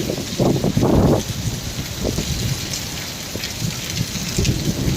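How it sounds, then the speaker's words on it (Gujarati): Heavy summer rain pours down in Kalasar, Chotila, driven by strong gusting wind, a steady dense roar with bursts of louder buffeting and low rumbles of thunder throughout. "અત્યારે ફૂલ વરસાદ ફૂલ પવન સાથે આવી રહ્યો છે અને વીજળી પણ થાય છે"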